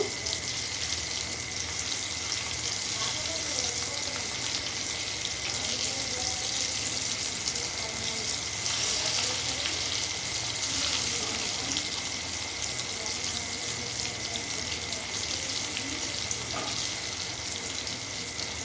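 Potato vada fritters frying in hot oil on a gas stove give a steady, dense sizzle with fine crackling throughout, close and fairly loud with no talking.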